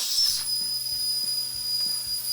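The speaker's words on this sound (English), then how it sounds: "That's the sound of goodness. We're releasing the steam." Steam hisses steadily from a pressure cooker holding short ribs, a loud continuous rush with a high whistling tone running throughout and a faint rhythmic mechanical ticking beneath.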